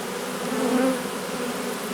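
Honeybees from a fresh swarm fly around a hive in an apiary, making a steady, dense buzzing hum close by with no voices.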